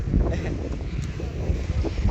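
Wind buffets clip-on microphones outdoors, producing a continuous low rumbling roar that fills the whole stretch without letup.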